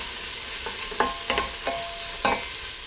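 A spoon stirs small-cut onion, carrot and celery in a pan, giving four or five distinct scraping strokes over a soft, steady sizzle.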